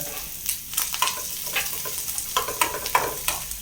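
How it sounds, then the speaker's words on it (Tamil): Greens sautéed in a pan for a simple Tamil keerai kuzhambu, a close, steady sizzle broken by repeated scraping stirs of the spatula throughout, with no voices. "அப்படியே வதக்கிட்டு அதில் ஊற்ற வேண்டியது."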